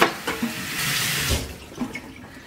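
Tap water runs and splashes in a sink while beef tongue is washed, a steady close rushing stream with brief surges and knocks.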